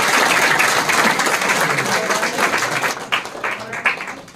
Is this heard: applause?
yes